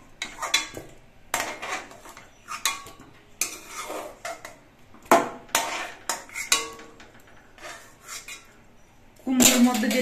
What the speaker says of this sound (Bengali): এবার মিষ্টি কুমড়োগুলো আমি তুলে নিচ্ছি।